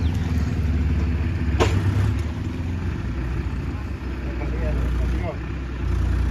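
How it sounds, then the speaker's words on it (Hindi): A tractor engine labours along a road with knee-deep potholes, giving a steady low rumble throughout under wind-like noise, with one sharp knock near the middle. "देखिए ट्रैक्टर को भी कितनी दिक्कत हो रही निकलने में"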